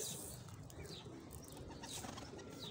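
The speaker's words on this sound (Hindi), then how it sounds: "एक कबूतर और आके बैठ रहा है" A pigeon settles onto a perch while another pigeon coos softly, with brief chirps and a faint flutter of wings over a steady outdoor background hum.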